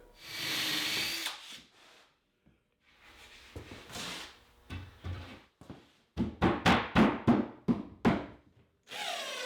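A power drill drives screws through 1/2 inch plywood to fasten the back onto a bookcase cabinet, in several bursts of whirring and grinding, ending with a quick run of short rapid pulses, close and fairly loud.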